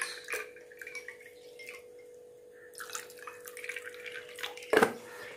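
Water is poured into a tumbler holding sugar and ice cubes for a cold summer drink, giving intermittent close splashes and drips that end with one sharp clink.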